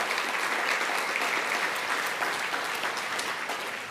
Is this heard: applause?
yes